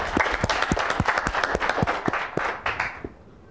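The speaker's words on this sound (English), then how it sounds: "can everybody give Richard a round of applause for the great graphic genius that we enjoy so much?" An audience applauds at a live-streamed computer user group meeting, a dense burst of clapping from a small crowd that tapers off near the end.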